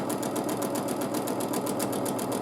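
A sewing machine stitches at a steady, constant needle speed during free motion quilting, giving a fast, even whirring patter that runs continuously and fairly close with no talking.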